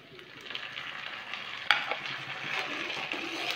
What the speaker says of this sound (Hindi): और अब मैं इसमें टमाटर डाल देती हूँ।